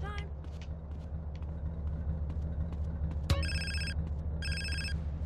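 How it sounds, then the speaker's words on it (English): Cell phone ringing in the video game Grand Theft Auto: San Andreas, two bursts of a bright electronic ringtone over a steady low engine rumble from the game, with no talk. "Answer your cell phone."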